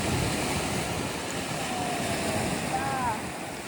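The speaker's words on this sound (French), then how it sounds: "Tu vas dormir avec le bruit des vagues." Sea waves wash against the shore in Greece, a steady broad rush of surf with wind buffeting the microphone, easing slightly toward the end.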